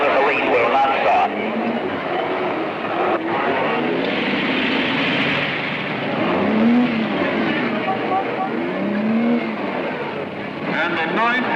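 Race cars idling and revving together at the start of the 9th annual Nassau Tourist Trophy race, a steady mechanical roar with engine tones rising and falling, under a narrator speaking throughout.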